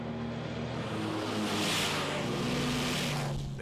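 A 55-ton K2 Black Panther battle tank with a 1,500-horsepower engine drives past, a loud continuous engine roar and broad rumble that swells toward the middle and holds steady throughout.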